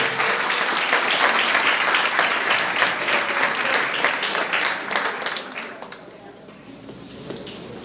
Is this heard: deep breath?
no